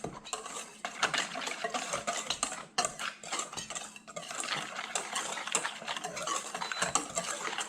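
Pork chop seasoning and salt are mixed in a bowl with a utensil, giving repeated clinking, scraping and stirring taps in an uneven rhythm, close and moderately quiet with no talking.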